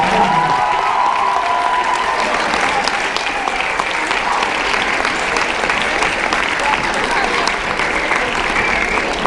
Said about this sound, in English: So please give me another round of applause for them.